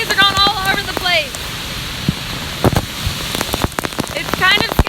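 Heavy rain pours down in a forest on the Appalachian Trail, a constant close roar of water hitting foliage and the ground, with bird calls and short bits of speech over it.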